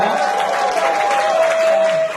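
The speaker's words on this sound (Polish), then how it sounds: "Także brawa dla niego" Applause breaks out for a business partner at a company's seventh anniversary celebration, a dense, steady round of clapping from the gathered crowd, with a sustained tone running beneath it.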